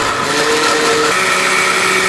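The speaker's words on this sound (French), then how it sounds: "Mélangez le tout dans un mixeur et surtout fermez bien le couvercle." A kitchen blender whirs loudly and continuously as it mixes apple peels with vanilla extract, its motor pitch shifting once partway through as the contents break down.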